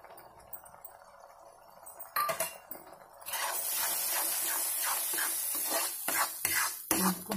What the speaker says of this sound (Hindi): इसको हम भून लेते हैं।